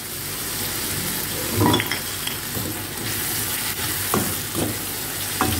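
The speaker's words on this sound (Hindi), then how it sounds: "इसको मैं बस थोड़ा सा मिक्स करूँगी ताकि टमाटर नीचे हों और वो गल जाएं।" Tomatoes and crushed coriander are stirred in a pan of frying aloo do pyaza, with a constant close sizzle broken by several soft scraping thuds of the spoon against the pan.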